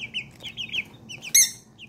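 Pheasant-chicken hybrid chicks and tiny serama bantam chicks peep in a steady stream of high, thin chirps, with one louder, sharper burst of cheeping near the end.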